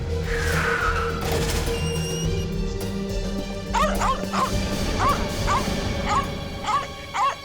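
Several dogs bark and yip in a rapid series of sharp calls over a droning background hum, some whimpering mixed in, moderately close.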